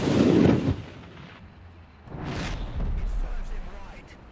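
Tank cannon fire in the video game War Thunder: heavy booming blasts with rumbling tails, one at the start and another roughly two seconds later, with voices shouting over the action.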